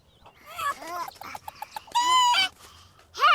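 Chickens in The Sims 4 cluck and squawk up close, a run of short clucks broken by a couple of longer, louder squawks.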